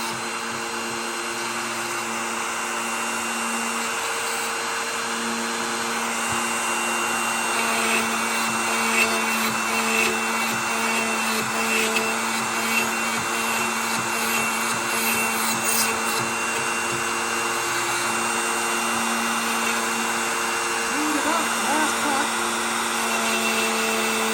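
Pantorouter cuts a dovetail joint for a cabinet drawer while its dust collection runs through a dust hood, giving a steady whining machine roar with a constant hum and faint rubbing of the cut throughout.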